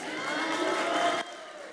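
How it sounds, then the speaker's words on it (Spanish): A crowd of Campus Party attendees applauds and cheers a numbered contestant, a dense, loud wash of clapping and shouts that cuts to a quieter tail near the end. "Aplausos por nuestro campusero número 3."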